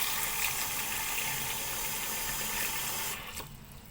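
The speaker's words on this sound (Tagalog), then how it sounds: "Tapos, lagyan natin siya ng tubig." Water gushes from a tap onto salted, sliced bitter gourd in a bowl, a loud, steady close pour that cuts off and fades near the end.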